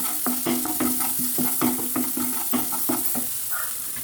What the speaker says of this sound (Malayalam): ഇഞ്ചി വെളുത്തുള്ളി പേസ്റ്റ് നമുക്ക് ഇതിലേക്ക് ചേർത്ത് കൊടുക്കാം ഇതിലേക്ക് ചേർത്ത് നല്ലതായിട്ട് വഴറ്റി കൊടുക്കാം